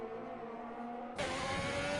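Race cars on a warm-up lap at Bahrain in a racing game, a single engine holding a steady drone that jumps abruptly to a louder, brighter pitch midway, close by and with no voices.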